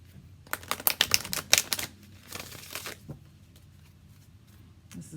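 An Enchanted Map Oracle card deck is shuffled up close in a burst of rapid riffling clicks and flutters, then softer slides of the cards, with no talk.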